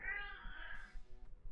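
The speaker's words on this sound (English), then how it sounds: "That's my cat." A house cat lets out a single drawn-out meow, fairly faint and close, with quiet background noise and no talking.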